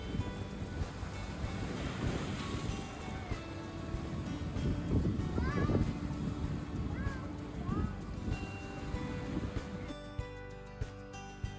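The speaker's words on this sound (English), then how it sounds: "You can hear the sound of the waves brushing against the stones" Lake waves wash and lap steadily against shore stones at Lake Garda, Italy, in summer, amid outdoor ambience, with gusts of wind and faint distant voices and music.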